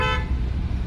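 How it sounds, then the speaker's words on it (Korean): A short toot from the horn of a scrapped Audi Q5 2.0 TDI, heard as a brief, bright, close blast that quickly gives way to engine rumble. "크락션 잘 울리고"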